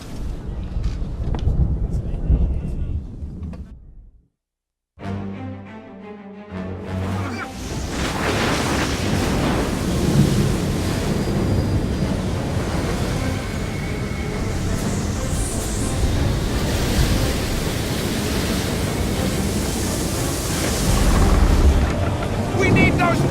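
A storm at sea in Assassin's Creed III: wind howls and waves crash around a sailing ship in a dense, continuous roar, with a brief silent gap early on and voices shouting over it.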